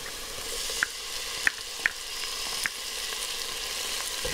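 Garlic added to translucent onions frying in a pan gives a steady close sizzle, marked by a few sharp clicks of a utensil against the pan, with no one talking.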